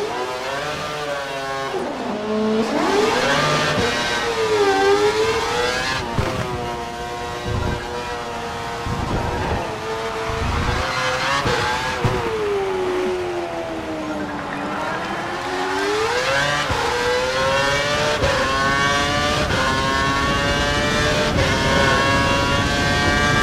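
Formula 1 McLaren race car from the F1 2012 video game, its engine whining loud and close with rising and falling pitch as it accelerates, brakes and shifts through corners, continuous throughout.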